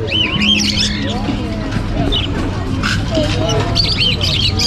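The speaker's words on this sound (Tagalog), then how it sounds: "Marami pang ibon to si Sir Elias eh." Birds squawk and chirp at a bird market during a town fiesta in Obando, Bulacan, with repeated calls rising over a constant crowd babble and background hum.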